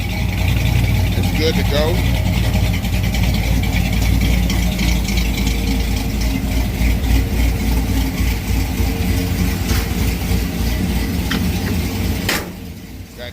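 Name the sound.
5.3 LS swap engine in 1968 car, idling and revving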